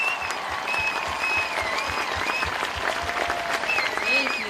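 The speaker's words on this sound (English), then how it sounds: "give another round of applause to all the beautiful black and brown speakers that you heard today." An outdoor protest crowd in Portland, Oregon applauds its speakers with steady, fairly close clapping, mixed with scattered voices, whistles and faint chatter throughout.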